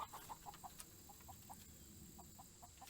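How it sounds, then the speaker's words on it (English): Chickens being chased by a cat, giving quick repeated faint clucks in short bursts with pauses, set against quiet outdoor background noise. "The cat's chasing chickens."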